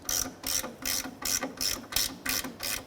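Ratchet wrench clicking as it loosens the spare tire hoist bolt on a Nissan Frontier, seven or eight quick, close bursts of rapid pawl clicks in a steady back-and-forth rhythm.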